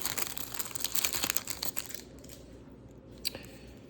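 A 1988 Topps Big baseball card poly pack crinkles as its plastic wrapper is torn and handled, a busy rustling burst up close that fades into a few scattered crackles.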